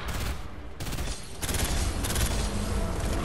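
Rapid, dense gunfire from players shooting in the video game Fortnite. The loud, continuous volleys of overlapping shots run throughout without pause.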